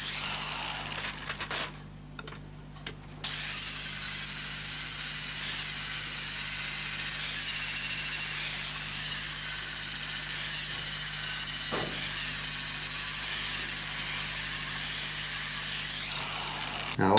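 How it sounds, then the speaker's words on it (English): An angle grinder with a flat wheel grinds the top of a wooden table leg flat, a continuous loud hissing grind that briefly dips early on, then runs steadily and evenly to the end. "So just grinding that down now with a flat wheel in order to get a flat top"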